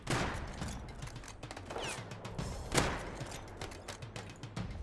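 Bursts of gunfire crack out in the video game Rust, a rapid spray of close, sharp shots repeating in uneven clusters across the whole stretch with no talk over it.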